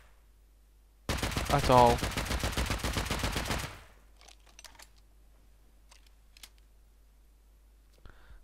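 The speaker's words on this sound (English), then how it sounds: "I had rockets and gun. So I tried shooting them, as you can see." Gun and rocket fire aimed at boats in the survival game Rust: a fast, loud rattling burst of rapid shots lasting a few seconds, then faint scattered clicks and thumps, with a brief spoken word over it.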